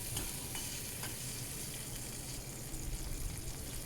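Chopped tomato sizzles in hot oil in a wok with cumin seeds and a green chilli, a dense steady frying hiss with faint stirring, heard close and alone.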